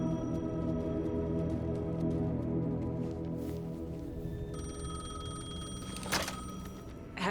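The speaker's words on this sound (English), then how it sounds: "The payphone was ringing." A payphone rings in the video game Alan Wake 2, a steady electronic ring heard over a low ambient drone, with a brighter burst near the end.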